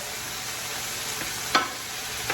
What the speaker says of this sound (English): I'm going to let that cook in here just a little bit to consume some of that moisture that's going to come from that okra